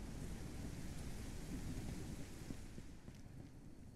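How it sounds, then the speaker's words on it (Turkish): Steady rain and rumbling thunder from the farming video game Ranch Simulator, a soft continuous wash of rainfall with low rolling rumbles underneath, fairly quiet. "Oha, yağmura bak."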